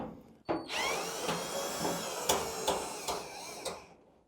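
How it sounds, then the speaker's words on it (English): A power drill fitted with an 8mm socket whirs continuously at close range, removing screws from a Kenmore Whirlpool dryer, its pitch wavering as it works, with sharp clicks and knocks punctuating the spin. "To save a little time, I'm using a drill here."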